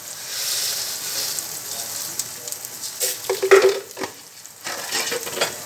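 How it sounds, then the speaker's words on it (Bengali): Ghugni with sugar being sautéed and stirred in a pan: a soft, continuous sizzle with a short burst of louder scraping stir strokes near the middle, and no voices. "চিনি দিয়ে দিলাম দিয়ে এটাকে ভালো করে কষিয়ে"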